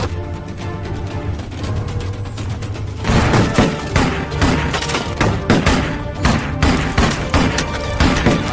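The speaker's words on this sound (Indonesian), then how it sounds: "ketika kedua tentara itu menemukan Mark lalu terjadilah baku tembak yang sengit." A fierce gunfight in a gangster revenge action film, with steady rumbling background that breaks into loud, rapid, repeated gunshots and thuds layered over a dense soundtrack.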